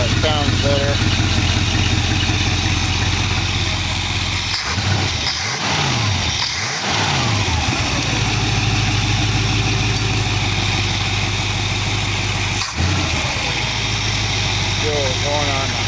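A 1914 car engine runs at a fast, steady high idle just after carburetor adjustment, its loud continuous drone close by, with people talking over it and a couple of brief dips in the running.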